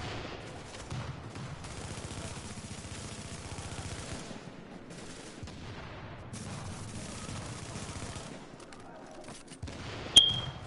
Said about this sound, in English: I'm hearing gunshots from somewhere.